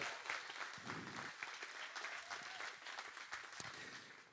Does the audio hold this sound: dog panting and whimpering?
no